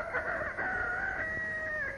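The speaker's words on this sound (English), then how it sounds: "the rooster sends out his call" A farm rooster crows in the early morning near an Eden Prairie hen house, one long, strained, wavering call held for about two seconds, close and fairly loud.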